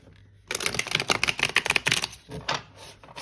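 Rapid, crisp papery flutters of tarot cards being shuffled, a quick riffle burst that trails off into a few softer slaps.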